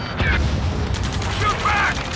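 Gunfire in the combat flight game Ace Combat 7, a loud clatter of rapid shots and mechanical rattles amid battle noise, with radio-style voices talking over it.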